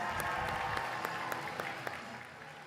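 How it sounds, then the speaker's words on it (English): Audience applause at the HMUN 2026 Model UN opening ceremony, a steady wash of clapping from a large hall that fades slightly toward the end, with no one talking over it. "Clap it up."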